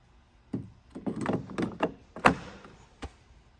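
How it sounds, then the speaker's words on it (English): A 2022 GR86 door handle being worked out of the car door, a close series of plastic knocks, clicks and rattling taps followed by one sharp snap and a final click, with no talking. "This door handle will slide to the left or towards the back of the car"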